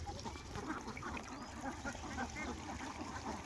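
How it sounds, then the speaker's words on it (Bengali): Ducks feeding in water on a Chalan Beel farm, a busy, fairly faint mix of quacks, dabbling and splashing that carries on steadily without talk. "কত সুন্দর হাঁসগুলো দেখুন পানিতে নেমে খাচ্ছে"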